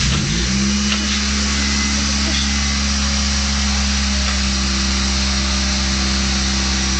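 A Honda engine fired up after an idle air control valve replacement, settling into a steady, high idle with a constant low hum and a faint whine, close and continuous with no talking.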